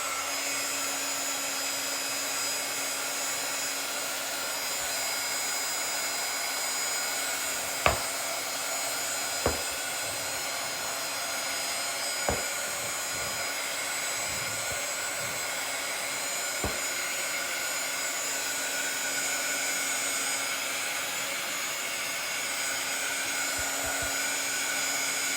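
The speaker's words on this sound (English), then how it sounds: "this is a heat gun. It's a little heat gun." A small handheld heat gun drying freshly applied paint gives off a steady, even blowing whoosh, with a few faint clicks and taps over it and no talking.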